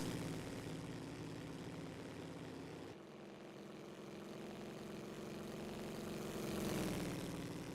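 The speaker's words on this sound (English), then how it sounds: "Certainly a nice sounding car" A 1924 Grand Prix racing car engine in a racing video game, heard as a steady, fairly quiet droning drone that swells slightly near the end, with no talk over it.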